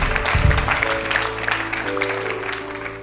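A church congregation at a Sunday service loudly acclaims the Lord, a dense wall of cheering and clapping over sustained musical tones, steady and enveloping throughout.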